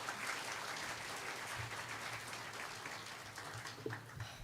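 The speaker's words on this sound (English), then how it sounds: "Can we have a huge round of applause?" Audience at a freshmen orientation claps steadily in a dense, even wash for several seconds, heard from a distance and fairly faint.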